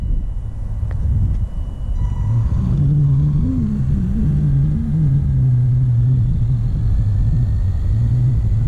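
A WLtoys 144001 brushless RC car with a 60 amp ESC runs at about 40 km/h, giving a steady, loud motor whine and rumble that holds throughout with small shifts in pitch.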